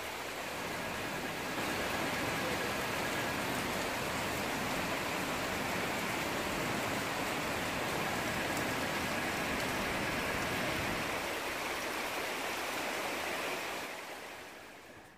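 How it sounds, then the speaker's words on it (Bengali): Heavy rain falls outside a window in Bangladesh after days of intense heat, making a dense, even hiss that holds steady for a long stretch before fading away near the end, with no voices. "ঝিনিঝিনি শব্দ বৃষ্টির।"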